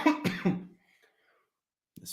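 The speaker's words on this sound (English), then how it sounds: "freaking cough." A couple of sharp, close coughs in quick succession, then a short silence before another brief throaty burst.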